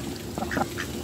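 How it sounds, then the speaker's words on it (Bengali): Ducks being fed rice give a few short nasal quacks at close range over a low steady background rumble, brief calls clustered together with no speech. "আসছে হাঁসগুলো আর কি"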